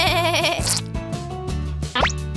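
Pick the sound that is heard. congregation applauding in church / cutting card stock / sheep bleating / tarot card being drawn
sheep bleating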